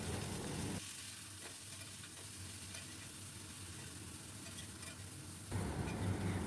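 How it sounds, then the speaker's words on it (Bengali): Vegetables and shrimp stir-fry in a pan with salt, turmeric and Kashmiri red chili powder, a steady sizzle with soft scraping of stirring running throughout, louder at the start and end. "খুব ভালো করে নেড়ে মশলার সঙ্গে মিশিয়ে নেব।"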